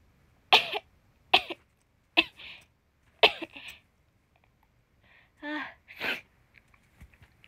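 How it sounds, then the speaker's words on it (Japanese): A string of sharp, close sneezes, four in quick succession, followed by a couple of softer sniffles and breathy sounds, with faint clicks trailing off. "なんか来た、めっちゃくしゃみ出そう"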